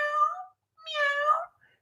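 A person's voice imitates a cat meowing twice during a children's music class, two short drawn-out calls, close and fairly soft.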